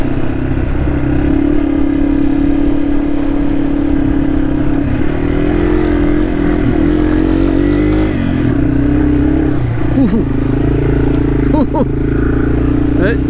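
A Yamaha TW200 and a Honda CT125 climbing a high mountain trail in Idaho, engines droning loud and close with steady revving and shifting pitch, plus occasional clatter.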